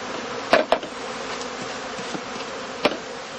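Steady buzzing of honey bee colonies housed in traditional straw skeps at a large German apiary, a continuous droning hum with a few brief louder knocks and handling sounds near the start and toward the end.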